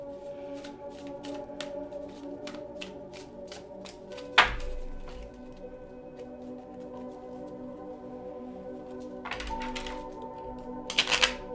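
Tarot cards are shuffled in quick repeated riffles, soft flicking taps close by, with a few sharper slaps and a faint tonal hum underneath.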